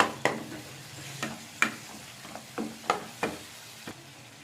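Chicken gravy masala stirred in a pan over a faint background sizzle, with a handful of sharp scraping spoon strokes at irregular intervals.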